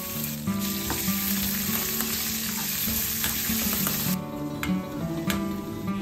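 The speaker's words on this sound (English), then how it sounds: "Now I'm frying cashews and raisins all together in ghee." Cashews and raisins fry together in hot ghee, a loud, continuous sizzle and crackle with occasional stirring clinks from the pan.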